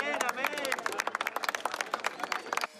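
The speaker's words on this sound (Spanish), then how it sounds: "los aplausos llegaron tras su rescate" Crowd clapping after an earthquake survivor is rescued from a collapsed building, with quick uneven claps close by and voices and crowd noise mixed in.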